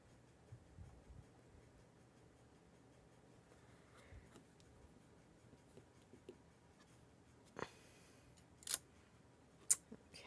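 Paper being trimmed for a Stampin' Up! twisted easel card, quiet scratchy scraping and light taps, then a few crisp, louder cutting strokes and snips toward the end, close and otherwise hushed.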